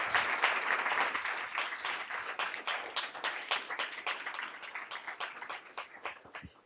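Audience applauding at a school board meeting honoring outstanding young people, a dense sustained burst of many hands clapping that tapers gradually toward the end.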